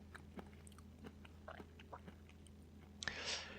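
Raw ark clam (blood clam) wing meat being chewed close up, with a few soft crunchy bites scattered through a quiet stretch and a louder burst of crunching near the end.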